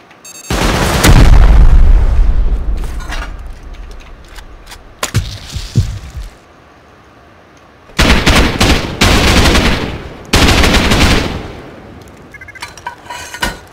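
A rocket slams into a turret in the survival game Rust, followed by explosive ammo, heard as heavy loud booms and bursts of rapid gunfire in separate blasts with short gaps between.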